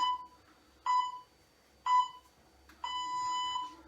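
A workout interval timer sounds three short electronic beeps at roughly one-second spacing, then a longer sustained tone, clean and moderately loud over near silence.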